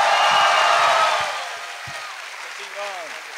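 Live comedy show audience applauding and cheering the Mago Jambo, loud crowd clapping that fades into lighter applause.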